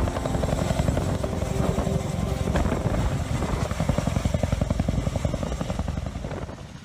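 Twin-engine tandem rotor Boeing Vertol heavy-lift military helicopter flying, a loud steady rotor thump with dense engine whine, close and continuous throughout.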